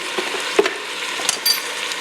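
Garlic sizzles as it is stirred into a pot of New Mexican green chili stew, a steady close frying hiss with a few soft stirring knocks and clinks, no voices.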